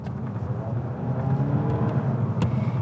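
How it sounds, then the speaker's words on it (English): A 2023 Skoda Octavia RS four-cylinder engine in eco mode hums steadily at low revs, a smooth, muted drone from inside the cabin with no talking. "So that little 4-cylinder sound you can hear when you're in eco mode,"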